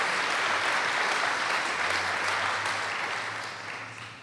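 Audience applause at a 2017 multi-faith baccalaureate service, a full hall clapping steadily and loudly before gradually fading toward the end, with a low hum beneath.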